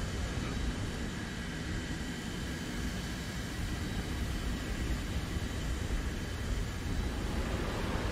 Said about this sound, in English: it's a plane. Yeah. No, that's the A4. And he's coming for me.